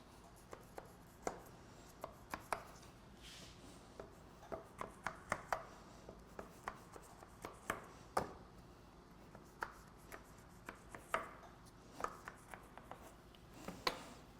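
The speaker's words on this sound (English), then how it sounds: "Then you take a really sharp knife and you score it" Sharp knife scoring layered phyllo pastry for a Greek dish, a series of faint, crisp cutting taps and scrapes in an irregular rhythm, close and quiet.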